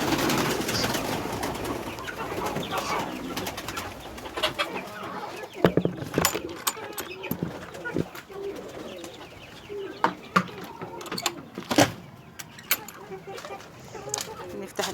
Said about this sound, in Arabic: الحمام هناك اهو.